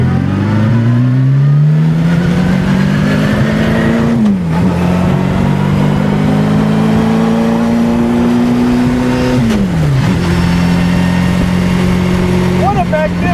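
A 1927 Bugatti Type 51 race car driven hard, its loud engine note climbing steadily through the gears with two sharp drops at gear changes, heard from inside the car, with voices partly under the roar.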